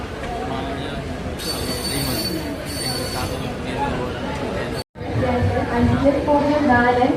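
Steel wheels squeal in high, drawn-out bursts as the Kanniyakumari–Bengaluru mail express rolls slowly out of Ernakulam Town station, with a broad rumble and some voices in the background.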